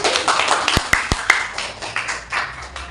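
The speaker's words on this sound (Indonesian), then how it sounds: "Berikan dulu aplaus untuk kelompok" Classroom applause for a student group about to present, a short burst of many hands clapping at once, close and lively, with several sharp individual claps standing out in the first second.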